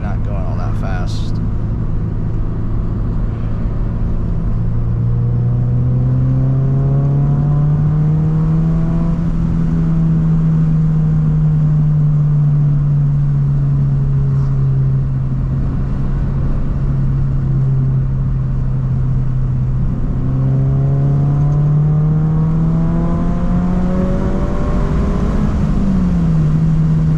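A Subaru BRZ engine drones loudly from inside the moving car, its pitch climbing and easing as the revs change over a steady road rumble, with talking over it.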